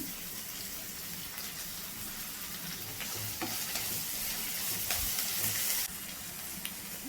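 Cumin seeds and curry leaves, with onions, crackle in hot oil for a mango chitranna rice dish, making a constant close sizzle with occasional small pops and stirring clicks, and no one speaking.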